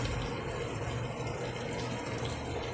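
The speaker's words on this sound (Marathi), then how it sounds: "आता आपण गरम पाणी टाकूया।" Hot water poured into a pot of mutton and rice, a steady continuous gushing splash at close range, uninterrupted and without talk.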